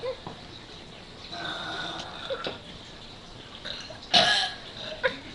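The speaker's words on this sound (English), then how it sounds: "Okay, someone burp." A teenage girl belches during a burping contest, with a few short throaty burps scattered over quiet room tone and one louder, sharper belch near the end.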